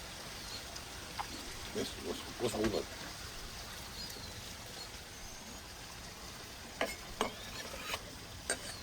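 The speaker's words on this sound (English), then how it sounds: "Time to stir them into the rest of the vegetable medley." Golden, lightly caramelized onions being stirred into a vegetable medley in a pan over an outdoor wood fire: soft scraping and intermittent clinks of a utensil over a steady low sizzle and ambient hiss, with scattered sharper taps near the end.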